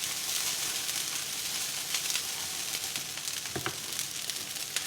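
Eggs sizzle steadily in a hot pan with olive oil for Cantonese fried rice, a continuous close crackling hiss with a brief louder spatter burst near the end.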